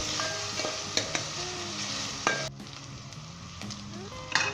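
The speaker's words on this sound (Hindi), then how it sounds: "2 से 3 मिनट तक हम इसे अच्छे तरीके के साथ भूनेंगे, इसका कच्चापन दूर करेंगे अदरक लहसुन प्याज का।" Ginger, garlic and onion frying in a pan, a quiet steady sizzle with a few sharp clicks and scrapes of stirring, one louder stir midway and another near the end.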